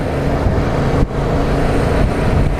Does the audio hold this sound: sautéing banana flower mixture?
no